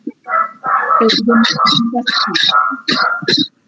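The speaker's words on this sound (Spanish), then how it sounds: "Perro." A dog barks in repeated loud bursts, fairly close, during an online class session, mixed in with a voice talking.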